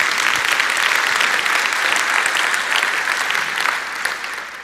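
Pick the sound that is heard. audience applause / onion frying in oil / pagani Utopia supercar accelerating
audience applause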